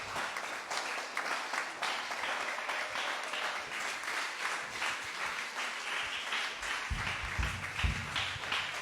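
A church congregation applauding at a worship service, sustained dense clapping that holds steady for the whole stretch, with a few voices faintly underneath.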